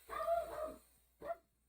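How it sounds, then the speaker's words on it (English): A dog barks indoors, one longer bark followed by a short second bark, fairly faint and alone with no talking. "Sorry, my dog is barking."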